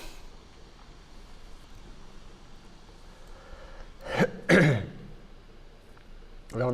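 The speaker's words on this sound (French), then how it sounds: "Désolé, j'ai avalé du café de travers." A man coughs and clears his throat after swallowing coffee the wrong way: two or three short, harsh bursts close to the microphone after a few quiet seconds, then another starts right at the end.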